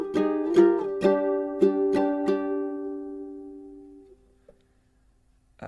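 Ukulele strums the final pass of the One Piece opening: several sharp strums in a loose rhythm, then one chord left ringing until it fades to near silence, close and clear with no talking.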